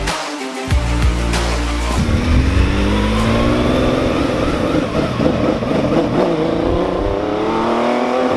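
A 2025 Porsche 911 992.2 with a 3-liter flat-six revs hard at launch, a loud, close, rising engine roar sweeping up through the gears with no talk over it.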